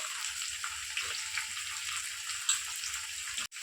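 Ivy gourd pieces frying in hot oil with onions, a soft steady sizzle and faint crackle with occasional light stirring sounds, quiet and without speech.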